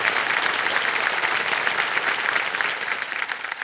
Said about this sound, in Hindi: इतना आप लोग ताली बजाते हैं